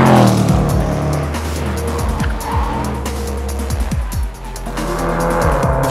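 A Range Rover Sport SVR, a 542 bhp SUV, runs hard around the Nürburgring, its engine roaring loud and steady with rising and falling pitch sweeps through gear changes and short tire squeals, with no talk over it.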